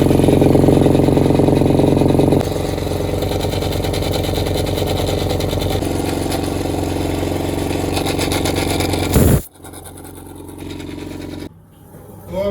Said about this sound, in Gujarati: તો મિત્ર આમાં બાટલાનો પણ અવાજ આવતો હોય છે